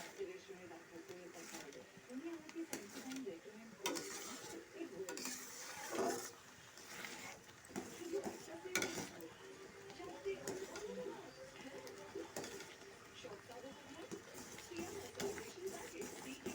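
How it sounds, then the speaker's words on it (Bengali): Melting sugar for mango jelly is stirred in a pan, giving quiet, irregular scrapes and taps of the spoon against the metal with a soft sizzle underneath, while a person talks. "নাড়তে থাকতে হবে না হলে লেগে যেতে পারে"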